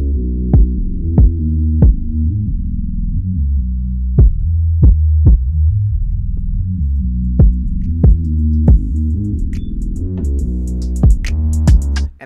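Hip-hop beat intro made in FL Studio 20, with a deep low-passed bass and no melody, steady throbbing bass tones under sparse sharp percussive hits that brighten toward the end as the filter opens.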